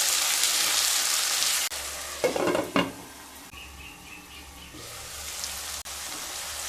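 Onion and peas frying in a pan for semolina upma, a soft sizzle with a few louder stirring scrapes of a spoon against the pan midway, no talk.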